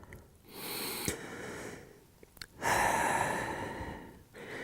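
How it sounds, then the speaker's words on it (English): Slow, deep breathing during a Pilates session, close and soft: a long exhale, a quieter inhale, then another full breath out, with gentle pauses between. "1 more breath."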